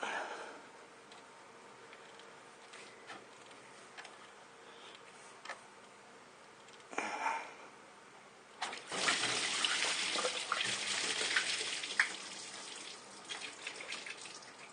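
Coolant draining from a lower radiator hose on a 2001 Dodge Dakota 4.7L, heard as a faint trickle that builds after a few seconds into a steady, louder splashing gush of liquid.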